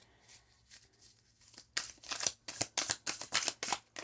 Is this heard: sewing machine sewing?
no